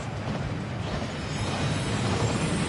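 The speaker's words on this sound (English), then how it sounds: "That waterfall washes away all enchantments" The Thief's Downfall waterfall inside Gringotts in Hogwarts Legacy gives a dense, continuous rushing roar, close and loud throughout the short stretch.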